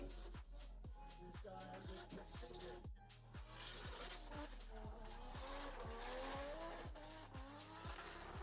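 BMW M6 drift car on a practice run at an Indonesian drift series qualifying round, engine revving hard in rapid repeated surges with screeching tire squeal, loud and continuous throughout.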